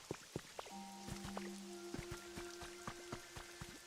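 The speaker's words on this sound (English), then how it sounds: "I was enjoying the rain." Rain falling in the video game Pokemon Pokopia: quiet, scattered drips and patters with soft tonal notes drifting underneath, with no voices.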